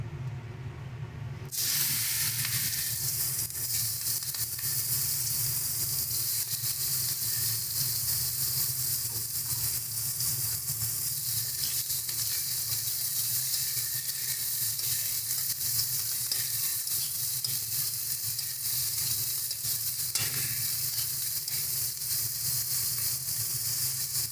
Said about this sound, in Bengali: মাছ ভাজার তেলেই আমরা যে বেগুনগুলো কেটে রেখেছিলাম ওই বেগুনগুলোকে ভেজে নিচ্ছি।